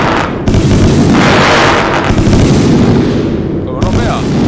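Rapid, heavy gunfire from a weapon in the video game Pyroworks, loud booming bursts that run almost without a break, with a short pause near the start and near the end.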